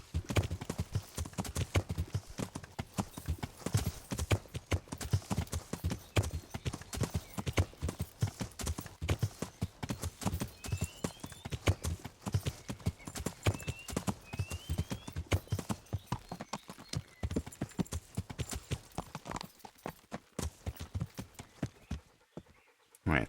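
Horse hooves clip-clop steadily through most of the stretch in the medieval game Kingdom Come: Deliverance, a brisk rhythmic trot that stays prominent and close, with a brief whinny, before slowing and fading near the end.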